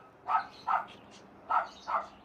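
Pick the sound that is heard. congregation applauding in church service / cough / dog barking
dog barking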